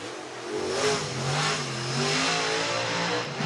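Dirt late model race car, number 28, rolling out at a dirt speedway, its mid-pitched engine droning and revving steadily at moderate distance, with no talk.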